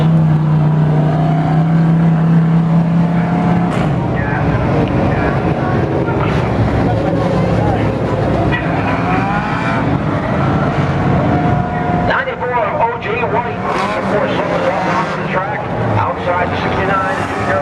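Four-cylinder race cars running a six-lap qualifying heat at Fulton Speedway, a dense, continuous engine roar from several cars at once with a race announcer talking over it throughout.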